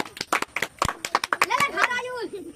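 Children clapping during a quiz game about West Bengal, a quick burst of bright claps mixed with a voice speaking, close and lively, over about two seconds.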